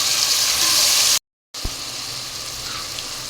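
Cauliflower florets and tomato pieces are stirred and fried together in a pan for aloo gobi curry, a loud continuous sizzle broken by a brief silent cut, then resuming with a soft thump.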